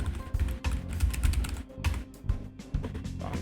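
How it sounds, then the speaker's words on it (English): Quick, close bursts of keystrokes with short pauses come from a computer keyboard while a search is entered on Docker Hub during software setup. "Then we type"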